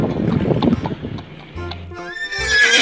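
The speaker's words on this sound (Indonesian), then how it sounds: "Ternyata ini adalah kuda. Kuda coklat yang besar sekali." A large brown horse neighs loudly nearby, a rising, quavering whinny near the end, preceded by snorting and hoof clatter.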